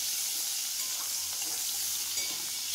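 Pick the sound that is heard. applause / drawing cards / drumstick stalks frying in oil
drumstick stalks frying in oil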